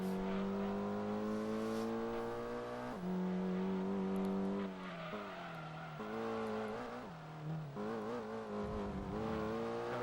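Race car engine in Gran Turismo 2, a steady high whine rising through the gears with sharp drops at each shift, loud and continuous with no voices.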